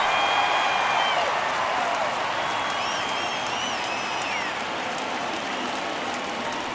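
Steady roar of a baseball stadium crowd in an MLB video game, a broad continuous wash of cheering noise with faint whistles above it, late in a one-run ninth inning.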